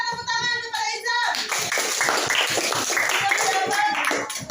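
A classroom of students breaks into rapid, steady hand clapping for a classmate, following a short spoken prompt at the start; the clapping is close, dense and continues to the end.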